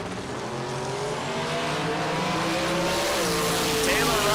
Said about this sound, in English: So Taylor gonna spool up the turbo and DeAndre gonna move in.